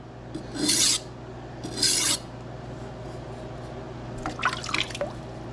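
A Rada kitchen knife scrapes across a wet King waterstone in three gritty rasping strokes, close and moderately loud, with short quiet pauses between passes.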